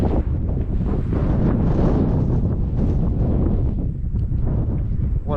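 Strong wind gusts across an open campsite, buffeting the microphone with a continuous, loud rumbling roar that rises and falls slightly throughout.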